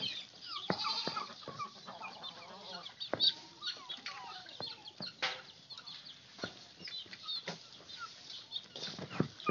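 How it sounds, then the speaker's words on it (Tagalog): Chickens cluck among newly hatched chicks, with busy, overlapping chirps and calls, occasional wing flaps and scattered sharp knocks continuing throughout at close range, with no talking. "May mga bagong pisang sisiw na yun."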